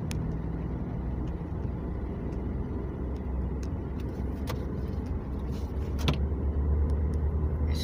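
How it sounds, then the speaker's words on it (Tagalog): Slow road traffic on the drive back from an office near Al Thumama, with a steady low rumble of cars and engines from inside a vehicle and occasional faint clicks over it. "Medyo may traffic na guys."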